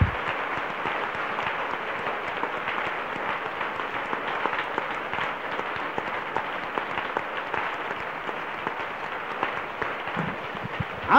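A church congregation applauds and cheers during a French-language worship service, with steady dense clapping filling the whole stretch, loud and continuous with no pauses.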